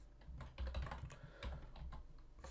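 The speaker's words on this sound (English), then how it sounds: "If I can type stuff." Rapid keystrokes on a computer keyboard, clustered into short bursts with uneven rhythm, close and fairly quiet, no voices.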